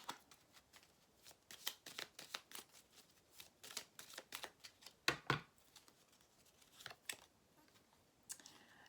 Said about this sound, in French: on va prendre une petite carte comme ça